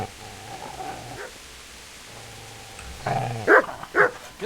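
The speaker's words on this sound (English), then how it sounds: "Get away, you mutt!" A dog in the video game Kingdom Come barks at the player, two sharp close barks near the end after quieter whimpering and background ambience.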